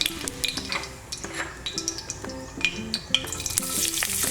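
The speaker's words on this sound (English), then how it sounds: "So I'm gonna put my garlic and the onion in." Garlic and onion hit hot cooking oil in a pan for squid adobo, giving a loud, steady sizzle and frying crackle, with a spoon stirring and scraping against the pan throughout.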